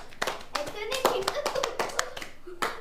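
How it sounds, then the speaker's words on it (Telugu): Hands clap in a run of sharp, close claps at an uneven rhythm during a Telugu Ugadi game at home, with children's voices and talk mixed between the claps. "క్లాప్స్ కొట్టరు"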